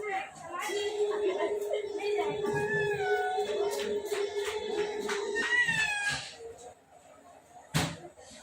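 A voice drawls out a long meow-like call, imitating a cat, amid other speech, followed by a brief sharp knock near the end.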